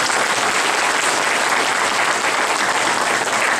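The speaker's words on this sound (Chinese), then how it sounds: "我们再以最热烈的掌声来表达我们的欢迎跟感谢" A hall audience at a school opening ceremony claps in sustained, dense applause, loud and even throughout with no pauses and no voices standing out.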